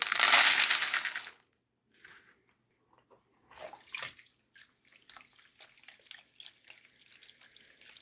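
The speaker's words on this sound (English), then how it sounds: "I'm just going to wash a lot of the clay out of it before we actually pan it" Water splashes over clay-laden gold prospecting paydirt in a pan, first as a loud gush, then as quieter sloshing, dripping and gritty swishing after a short pause.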